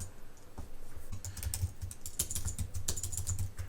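Fingers type quickly on a computer keyboard, a steady patter of close clicks with occasional louder strikes, with no one talking.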